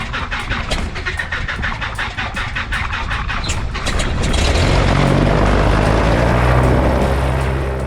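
A small propeller plane with shortened wings flies steadily, its engine drone building and growing louder and fuller partway through, with no one talking.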